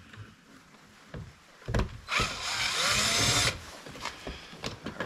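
A power driver whirs in a short burst backing out a Torx screw from the driver's door of a 2010 Ford Fusion, with clicks and handling noises of the door panel before and after.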